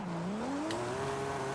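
Car drifting in Forza Horizon 5 on a small house track, tires squealing in a long rising-then-steady whine over the engine's hum, with a brief burst of noise partway through.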